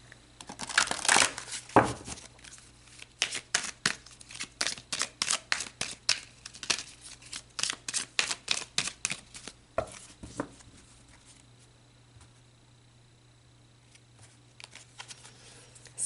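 Tarot cards are shuffled in a rapid run of crisp, close riffling snaps and slaps, a few seconds of dense clicking, then quieter handling and near silence as a card is drawn.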